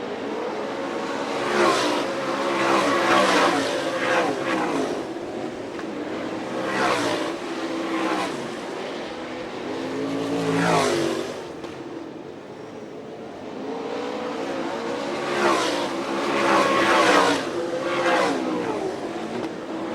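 Winged sprint cars race around a dirt oval at an All Star Circuit of Champions event in Fremont, Ohio, their engines roaring in repeated waves as the pack swings past, swelling loud and fading between laps with no talk over it.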